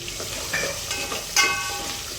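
Onion with ginger-garlic-coconut paste frying in a pan for Guntur-style dalcha, giving a soft, steady sizzle with a few brief clinks of stirring throughout.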